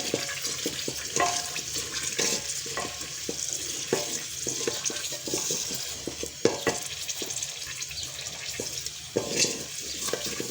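Chili and cumin sizzle in a cooking pot while being stirred, with repeated scraping and clinking strokes over a steady frying hiss.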